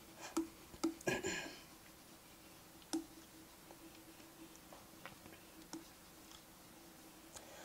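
Keyboard bracket keys pressed repeatedly while resizing a brush during Photoshop skin retouching: sparse, light plastic clicks and ticks, a few close together early, then scattered single taps, faint and alone.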